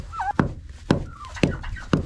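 Chickens in a snowy, frozen yard give short, rising clucks and squawks, with several soft thumps in between, close and fairly clear.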